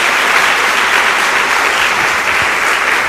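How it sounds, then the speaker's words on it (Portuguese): A church congregation bursts into dense, sustained applause, loud and even across its short span, with no voices standing out. "Dê uma salva de palmas a Jesus."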